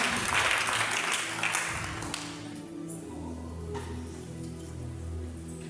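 A church congregation applauds during a worship service, bright dense clapping loudest at first and then fading into a quieter wash under sustained music.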